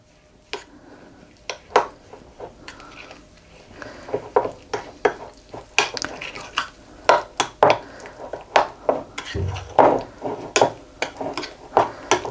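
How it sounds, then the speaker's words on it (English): A spoon stirring yogurt with salt, coriander powder and garam masala in a bowl, giving a string of sharp clinks and scrapes against the dish, loud and close, at an uneven pace with no talking. "we're going to take our yogurt and we're going to add our dry spices into this, which is the salt, the coriander powder and the garam masala"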